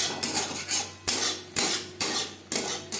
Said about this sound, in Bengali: হাই টু মিডিয়াম ফ্লেমে 2-3 মিনিট নাড়াচাড়া করে নেব